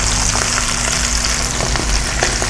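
Chopped button mushrooms and summer squash sauté in a hot pan with a steady, close sizzle and crackle throughout, no talking.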